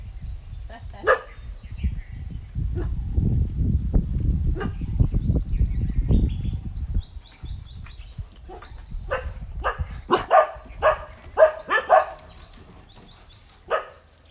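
Several dogs bark in a run of sharp, loud, repeated yips and woofs, clustered near the end, over low rumbling handling noise and occasional bird-like chirps.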